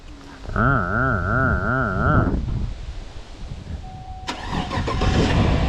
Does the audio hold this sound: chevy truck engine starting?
yes